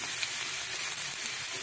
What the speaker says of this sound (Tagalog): Gisahin lang natin mabuti ang ating bawang at saka sibuyas bago natin ilagay ang giniling.